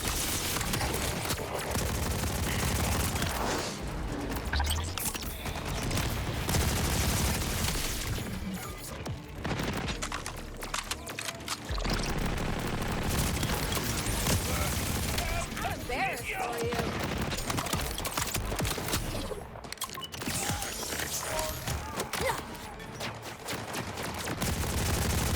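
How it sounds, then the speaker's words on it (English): Machine gun fire in Borderlands 4: long, near-continuous bursts of rapid automatic shots, loud and close, with booms and impact crashes mixed in and only brief lulls over the stretch. "I keep forgetting I have the machine gun out."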